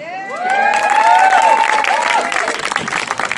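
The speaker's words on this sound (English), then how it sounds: "Please give a massive round of applause because tonight is not a wedding." A large audience at the opening night of the Bali International Short Film Festival applauds and cheers loudly, with whoops and shouts rising over dense clapping that holds steady throughout.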